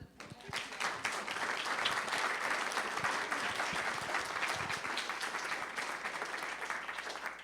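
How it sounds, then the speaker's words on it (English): Applause from a lecture audience at a history talk about the presidency, sustained, even clapping that rises quickly and carries on steadily, heard quietly as if from a distance. "First round of applause"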